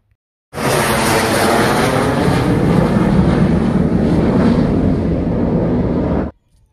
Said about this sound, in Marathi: पाहिलात ना कसा विमानाचा आवाज असतो, एकदम कंटाळा येऊन जातो ऐकून ऐकून